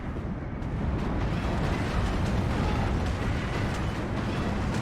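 Heavy explosions from B-26 bomber payloads in the Steel Division 2 battle game rumble as a dense, continuous, low booming roar that persists throughout without a break.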